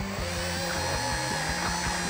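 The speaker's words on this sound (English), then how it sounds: "Take the drill mixer, just start slow." A drill mixer stirs concrete with water for 3D-printed mold home decor, a steady moderately loud whirring hum with slight pulsing, alone without talk.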